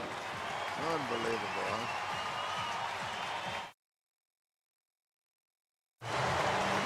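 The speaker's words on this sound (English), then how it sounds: "Listen to these fans." Baseball fans cheer and applaud at a packed St. Louis Cardinals home game: a steady, distant crowd roar under a commentator's voice. It cuts to silence briefly, then the crowd noise returns.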